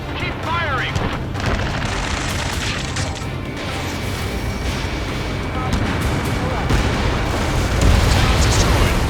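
Missiles launching and exploding during an aerial dogfight in the Ace Combat 7 jet combat game, a dense continuous roar of blasts and engine rumble with radio chatter over it.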